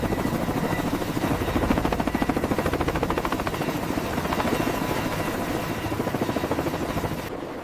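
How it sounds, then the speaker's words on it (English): Military tiltrotor aircraft take off en masse from a ship deck off the coast of Brazil, their rotors making a loud, continuous rhythmic chop over a heavy engine roar with no voices. "Vertical lift aircraft execute a mass takeoff"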